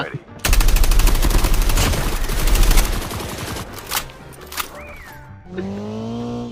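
Gunfire in the mobile shooter Call of Duty, with a loud, rapid automatic burst lasting a few seconds, then scattered shots and other game effects.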